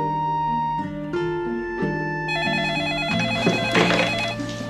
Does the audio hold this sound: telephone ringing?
yes